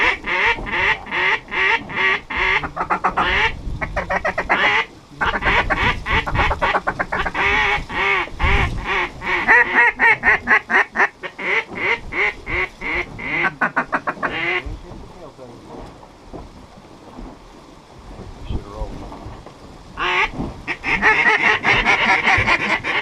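A group of mallard ducks coming in on a lake during duck hunting season, a dense, continuous run of loud, close quacking calls with rapid overlapping bursts, easing briefly before picking up again.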